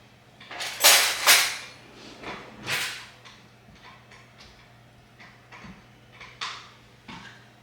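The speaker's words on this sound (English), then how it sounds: "it's our dog chewing a deer antler" A dog gnaws on a deer antler nearby in a farmhouse kitchen, making a few sharp, irregular scraping and clicking bursts separated by quiet pauses, with no talking.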